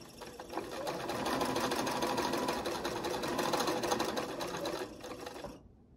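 Sewing machine stitching fabric along a seam while piecing a Double Wedding Ring quilt, a soft, steady rapid whir that runs continuously for several seconds and then stops abruptly, quiet and close.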